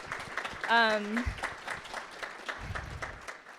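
A conference audience at a security keynote breaks into applause, a dense patter of clapping that runs throughout while someone speaks over it on a microphone.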